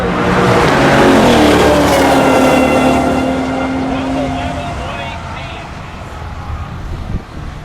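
A stock 2020 C8 Corvette screams toward the top end of a quarter-mile pass, a loud, steady engine roar that fades into the distance over several seconds and leaves faint trackside noise behind.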